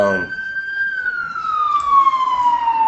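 An emergency siren wails steadily in one long tone, slowly dropping in pitch as the vehicle passes, with a brief voice at the very start.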